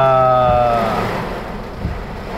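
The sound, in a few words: heavy rain and strong wind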